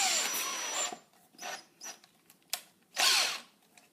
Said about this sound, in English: I have a pretty fat drill bit.